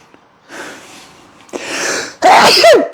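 A single loud sneeze at the end, preceded by two sharp intakes of breath, close to the listener with no talking.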